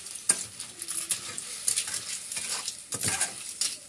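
Malvani clams being sautéed in a pan in a village kitchen, with soft sizzling under intermittent stirring scrapes and metallic clinks of a utensil against the pan.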